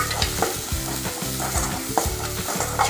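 Masala spice powders, including Kashmiri chilli powder, stirred into a hot pan for a North Indian curry, with steady close sizzling and frying and scraping stir strokes throughout.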